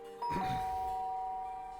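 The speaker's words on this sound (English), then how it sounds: "Ding dong." A doorbell in the video game Danganronpa: Trigger Happy Havoc gives a clean two-tone ding-dong, the second tone ringing on and slowly fading over a faint background hum.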